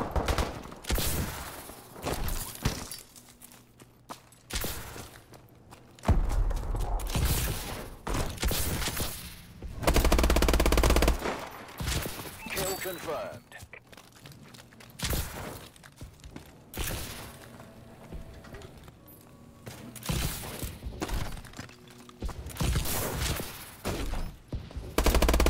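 Call of Duty gunfire during hip-fire play: repeated bursts and volleys of shots break out throughout, with heavy thuds and brief footsteps between them.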